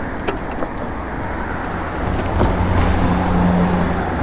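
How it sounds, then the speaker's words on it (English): Road traffic rumble heard while riding an e-bike and merging into traffic, a steady engine drone that swells as vehicles close in, with light rattles and no talk. "So we'll be merging into traffic here."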